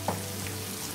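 Onion frying in a pan while cooking Phad Thai, a steady soft sizzle with a small pop at the start.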